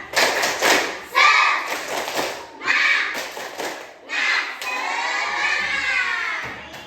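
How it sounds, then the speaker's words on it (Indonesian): A primary school class performs a group clapping chant, with bursts of unison claps and thuds in patterned rhythm mixed with children's shouted chanting, loud and close. "Tepuk semangat!"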